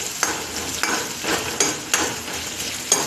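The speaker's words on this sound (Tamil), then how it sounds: "வெங்காயம் பூண்டு போட்டேன் அது கூடயே வதக்குறோம்" Onion and garlic sizzling and frying in a pan for cabbage chutney, with a spatula stirring and scraping at irregular intervals, close and fairly loud.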